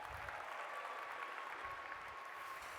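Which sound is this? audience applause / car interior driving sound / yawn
audience applause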